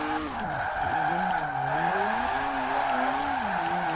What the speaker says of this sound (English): Some uphill drifting.